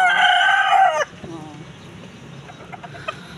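Chickens on a farm with a rooster crowing loudly and close for about a second, then quieter scattered clucks over a low background.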